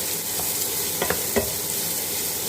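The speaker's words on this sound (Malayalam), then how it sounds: "ഉള്ളി പെട്ടെന്ന് വഴറ്റണമെങ്കിൽ നമ്മളൊരു കുറച്ച് ഉപ്പ് അതിൽ ഇട്ടാൽ മതി" Onions sauté with salt in a pan, giving a steady sizzle throughout. Around the middle a few scraping stirs of a utensil stand out, and no voices are heard.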